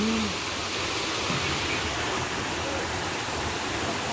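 Rainwater after a heavy night's downpour pouring off a hillside and falling into a pond below, a constant, loud, even rush with no pauses or distinct splashes.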